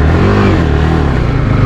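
Yamaha R15 V3 motorcycle engine cranking over and catching, then idling with a rough, clattering burble; close and fairly loud, no voices.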